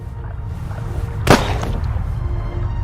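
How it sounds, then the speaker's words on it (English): A single sharp gunshot rings out from the video game The Raven, a sudden loud crack over a low, rumbling ambient background, with nothing else prominent before or after. "Gunshot. I know that."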